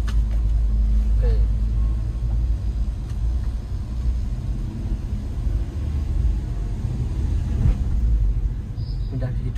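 A pickup truck engine rumbles steadily from inside the cab on a winding, damaged road, a low continuous drone with occasional faint rattles and no talking.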